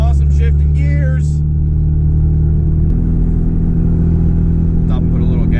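A 1996 project truck's engine drones loudly from inside the cab. The pitch drops abruptly partway through as the gears shift, and a voice talks over the engine near the start and end.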